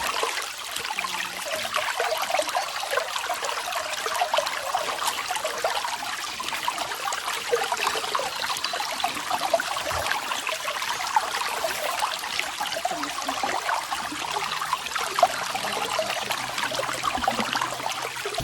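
River water flowing steadily at Assin Manso in Ghana, a continuous broad rushing wash with a faint trickle in it, even and unbroken throughout with no voices.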